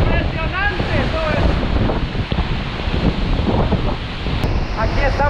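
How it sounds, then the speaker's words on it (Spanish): Misol-Ha waterfall in Chiapas, heard from behind the falling water: a loud, constant roar of pouring water with wind buffeting the microphone and brief voices at the start and end. "Aquí estamos en la parte de atrás de la cascada."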